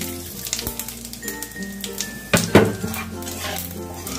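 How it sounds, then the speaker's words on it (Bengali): Bay leaf, clove, cinnamon, small cardamom and cumin frying in oil for a prawn malai curry tempering, with soft sizzling under clanks of a spatula against the pan and a louder scrape midway. "এবার আমি ফোড়নের জন্য যে একটা তেজপাতা, লবঙ্গ, দারচিনি আর ছোট এলাচ রেখেছিলাম সেগুলোকে দিয়ে দিলাম, আর দিয়ে দিলাম একটু জিরে ফোড়ন"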